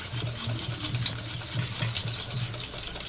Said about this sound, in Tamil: நம்ம ரெண்டுத்தையும் முட்டை வாழைப்பழத்தை ரெண்டுத்தையும் நம்ம கலந்துக்கணும்